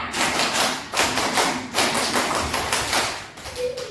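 Children in a classroom doing the Indonesian scout clap, tepuk pramuka, a loud patterned run of sharp group claps in bursts with brief gaps.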